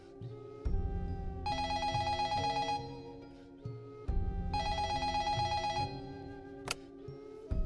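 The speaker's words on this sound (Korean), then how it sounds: "한 통의 전화벨이 울렸어요" A telephone rings at 3 a.m. in a horror story, loud and close, in two long repeated bursts of bright electronic ringing with a short pause between them.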